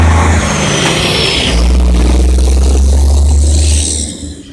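A car driving through traffic, with a steady loud engine drone and road rumble that deepens partway through and continues before easing off at the end.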